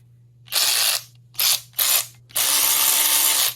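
Close by, a Hyper Tough brushed cordless electric ratchet whirs in four short bursts. The last and longest run lasts over a second, over a faint steady hum.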